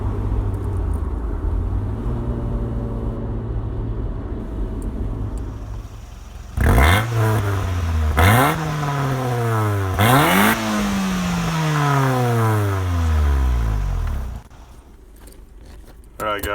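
A 1989 Acura Integra, front-wheel drive, launches hard with heavy wheel spin, its four-cylinder engine revving up in repeated sharp climbs and shifts, loud and close, after a stretch of idling engine noise.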